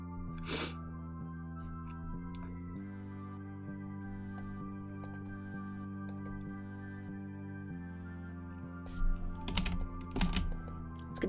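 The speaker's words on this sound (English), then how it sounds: "it's going to be a keyboard ASMR stream once again" Typing on a computer keyboard as keyboard ASMR, a steady close stream of soft key clicks over a sustained background hum, with a few louder bursts near the start and end.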